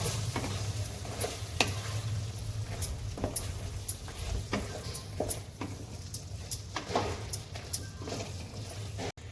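Soybean manchurian tossed in a hot pan with soy sauce, giving a steady close sizzle under repeated scraping stir strokes throughout, with no talking.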